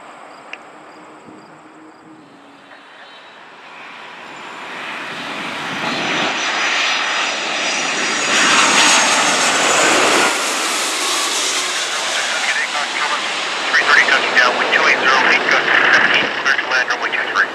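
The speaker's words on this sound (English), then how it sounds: "Tower, caution, turbine 767 touching down, wind 290." Jet airliner noise from a Boeing 767 touching down at Toronto Pearson airport builds from a faint whine to a loud, sustained roar that lasts the rest of the stretch, with voices partly audible underneath.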